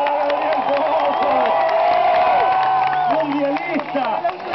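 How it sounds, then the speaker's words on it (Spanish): A crowd cheers and applauds through a Rally Mobil Motorshow 2009 N4 final. The steady crowd roar is loud and continuous, with a commentator talking over it throughout. "el aplauso para Gabriel Pozzo"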